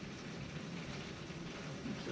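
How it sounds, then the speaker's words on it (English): Quiet, steady rain patters outside as a soft continuous hiss. "I'm sorry if you guys can hear that rain outside."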